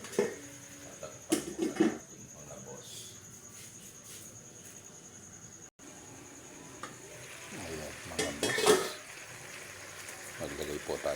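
Pork cooking in a pan for pork minatamis is stirred, giving soft scraping and gentle sizzling with occasional clinks, low and steady under someone talking at intervals.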